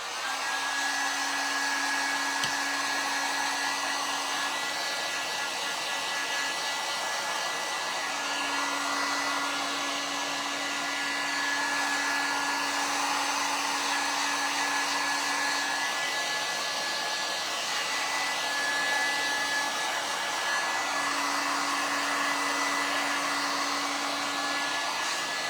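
A hair dryer blows continuously at close range while drying a farmhouse-style "Fresh Eggs" centerpiece, a steady loud whoosh with a faint whine that wavers slightly as it moves.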